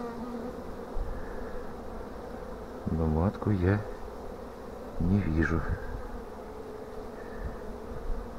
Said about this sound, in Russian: Здесь вот что-то много пчелы.